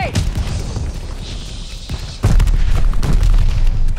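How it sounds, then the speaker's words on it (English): A grenade explodes in the Call of Duty: Vanguard video game, a loud sudden boom partway through followed by a sustained rumbling roar over battlefield noise. "Tossing grenade!"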